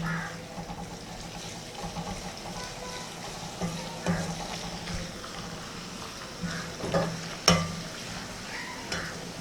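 Ginger-garlic paste fries in a pan as a spoon stirs it, a low steady sizzle with occasional scraping clinks and one sharp knock near the end, no talking.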